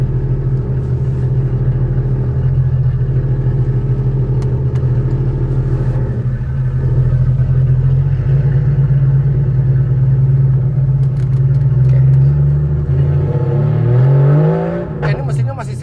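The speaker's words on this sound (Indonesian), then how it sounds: "Ini mesinnya masih sehat banget loh nih." A widebody RWB Porsche about 2.1 metres wide idles with a heavy, steady rumble close by, then revs up sharply near the end. A voice talks over the engine.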